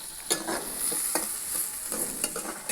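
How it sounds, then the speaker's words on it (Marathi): Tempering spices sizzle in a wok over a stove for a cabbage dish, a continuous crackling fry broken by several sharp stirring scrapes, with no talking. "तडका दिला आता"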